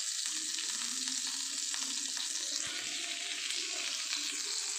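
Urad dal, a dried red chilli and curry leaves tempering in hot oil, a bright, dense sizzle that stays loud and steady throughout, heard close with no voices.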